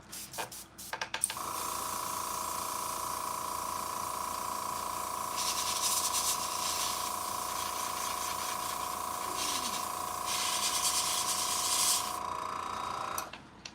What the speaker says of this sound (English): So I'm gonna do a top down spray from this angle